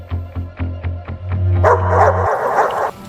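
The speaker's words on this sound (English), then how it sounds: "opens his mouth wide to bark" An animated cartoon dog barks about six times in a quick, even rhythm, loud and close, then lets out a long held tone followed by a rushing burst of noise.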